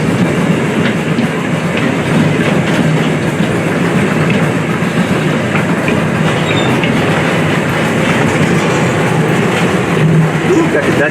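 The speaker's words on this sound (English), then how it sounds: "Most of the times, a zoo train, you'll get to see some behind the scenes areas." A zoo train rolls steadily along rails with a constant rumbling and faint clickety-clack of wheels, loud and close, with voices murmuring underneath.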